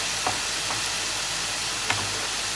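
Ground spices (coriander-cumin, red chili, turmeric and shaak masala) stirred over low heat in a pan for paneer ghotalo give a steady soft sizzle and hiss, with a few faint scraping stirs.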